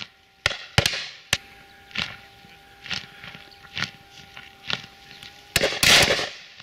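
Shotgun shots at a partridge shoot, several sharp cracks, including a quick close pair early and another pair near the end, amid quieter outdoor thuds and rustling.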